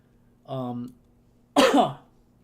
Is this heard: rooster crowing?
no